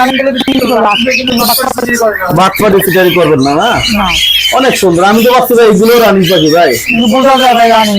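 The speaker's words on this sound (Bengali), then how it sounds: "এখানে কিছু কোকাডেল পাখি আছে" Cockatiels squawk and chirp repeatedly nearby in shrill, wavering calls, overlapping with one another at close range.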